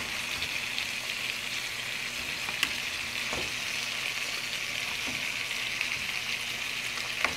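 Wild caught salmon pan fries in a home kitchen, giving a continuous close sizzle, soft crackling and a few faint clicks, with no voices.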